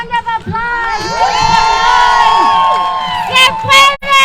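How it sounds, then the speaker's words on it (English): A loud crowd at a city rent control signing event cheers and whoops together, the shouting sustained and echoing, dropping briefly before rising again. "please give yourselves a huge round of applause"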